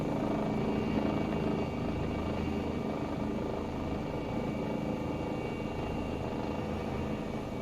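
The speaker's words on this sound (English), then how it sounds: "helicopters flapping." A Eurocopter EC135 in the X-Plane flight simulator drones with a steady rotor flap and turbine hum, continuous and close, with no talking.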